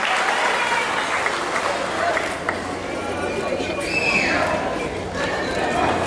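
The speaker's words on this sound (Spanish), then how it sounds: "Fuerte el aplauso" Loud, sustained applause from a crowd at a festival queen's coronation in Villa Madero, dense clapping that continues steadily throughout with a voice faintly mixed in.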